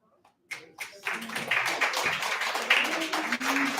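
An audience at a poetry and pints open-mic night starts clapping for a newcomer, a few scattered claps growing quickly into sustained, moderately loud applause.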